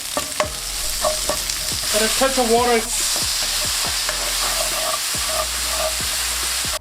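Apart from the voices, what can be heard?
stirring paprika into frying pan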